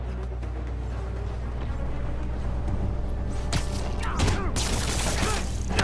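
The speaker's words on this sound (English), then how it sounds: "Yuri, an explosion just... I saw it." Video game explosion in Marvel's Spider-Man: a steady low rumble of machinery gives way to a couple of sudden loud bursts and crackling blasts in the last seconds, heard without talk.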